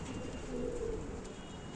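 A male pigeon cooing after landing, a soft low murmuring coo close by over a faint steady background hum, with no talking.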